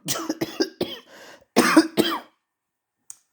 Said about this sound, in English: Oh, I coughed for a moment.